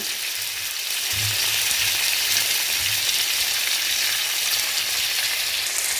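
Onion frying in a pan on smoked salo (cured pork fat): a steady, close sizzling hiss throughout, with a few soft low thumps from stirring.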